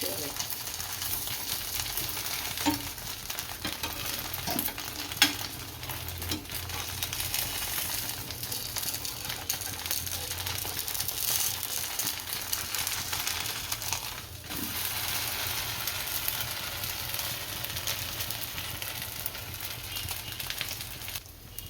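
Poha and semolina snack frying in a pan, a steady crackling sizzle that holds throughout at moderate level, with small clinks and faint background voices.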